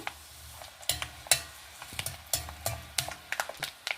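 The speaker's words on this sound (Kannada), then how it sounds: "ನೋಡಿ ಸಾಸಿವೆ ಹುಟ್ಟಿದ್ರೆ ಕೇಳುತ್ತಲ್ಲ" Mustard seeds popping in hot oil with garlic for a bitter gourd pickle tempering, rapid irregular crackles and pops over a continuous sizzle, close by, with no talking.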